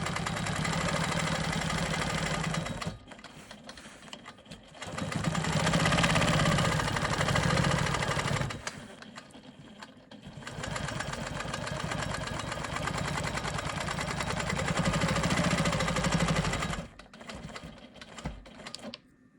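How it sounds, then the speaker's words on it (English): A sewing machine runs at close range, stitching in the ditch on a quilt block. Its rapid, even needle rattle comes in three long bursts with short pauses between them. "I'm going to go ahead and stitch in the ditch around this"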